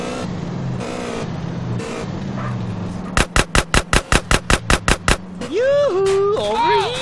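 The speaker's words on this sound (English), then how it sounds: "Oh, he's shooting me too!" Burst of about a dozen rapid, evenly spaced gunshots in GTA San Andreas, loud and close, with car engine noise and voices talking before and after the volley.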